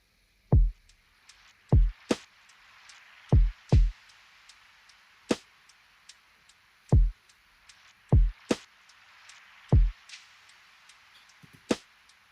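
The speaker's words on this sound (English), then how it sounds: "Now you can listen my first drums loop sounds like this." Synthesized drum loop built from Logic Pro's stock Drum Synth, with sparse punchy kicks and sharp clicky hits over a soft hiss, in an irregular, simple rhythm with no voices.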